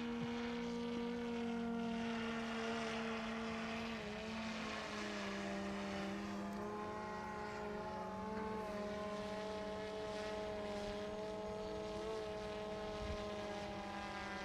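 An Autel Dragonfish VTOL drone's steady propeller drone whines in the distance, its pitch shifting slightly as it slows and descends to land, with no voices.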